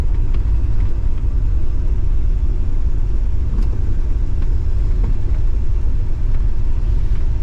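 A heavy old car drives along stuck in first gear, its transmission not shifting up into second, with an engine suffering from sludge. It makes a loud, steady, close engine rumble that runs unbroken throughout, with no voices.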